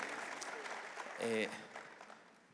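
An audience gives faint, brief applause during an interview. A quiet patter swells for a moment, then fades while a voice speaks over it.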